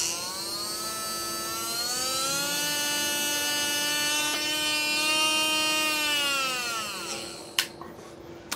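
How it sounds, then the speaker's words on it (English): An electric motor drives a 3D-printed planetary gearbox, producing a loud, steady high-pitched whine with strong harmonics that rises slightly in pitch, holds, then winds down, followed by a couple of sharp clicks. "I'm just here to test my Planetary gearbox."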